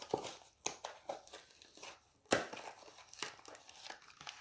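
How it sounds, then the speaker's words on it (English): Foil wrapping of a Magic: The Gathering booster pack is torn and crinkled open nearby in a quiet room, with several sharp ripping bursts and softer rustling between them. "Let's open up another booster."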